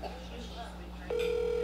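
A telephone line clicks and then gives a steady, loud dial tone after a moment of quiet room noise, held unbroken to the end.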